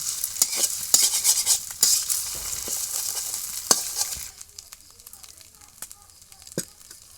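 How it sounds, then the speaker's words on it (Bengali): Beaten egg with salt and turmeric scrambles and fries in a pan, giving a bright, steady sizzle broken by scraping stirs of a utensil. The sizzle fades in the final seconds, and a voice talks over it. "ডিমটা ঝুরঝুরি বাজি করে নেব"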